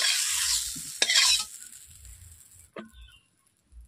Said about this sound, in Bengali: ঢেঁড়সগুলো একদম লালচে করে একটু ভেজে নিয়েছি